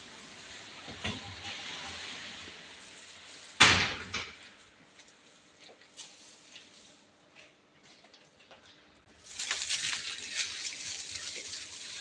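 A door is pulled shut in a shop with one sharp, loud slam, followed by a few softer knocks and rattles, then quieter room noise and a later burst of hissing clatter.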